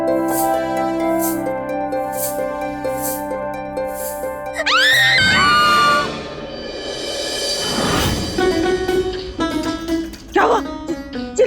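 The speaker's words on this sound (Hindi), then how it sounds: "चिल्ला क्यों रही है?" A woman in a kitchen at night gives a sharp, rising scream that cuts through loud dramatic music, followed by a second cry amid swelling music and sound effects.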